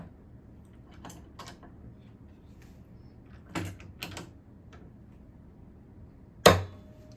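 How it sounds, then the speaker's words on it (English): Sparse wooden knocks and clicks as stained glass window frame pieces for an octagon window are positioned and clamped together, a few soft taps followed by one sharp loud clack near the end in a quiet workshop. "Position them together. I'm going to clamp them."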